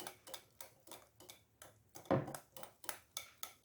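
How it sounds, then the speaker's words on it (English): A whisk clicks rhythmically against a bowl as fruit is mixed into cream, butter, sugar and eggs for a Jamaican black fruit cake, with quiet, steady, repeated taps and one louder clatter midway. "whisking it in to combine with our cream, butter and sugar and our eggs"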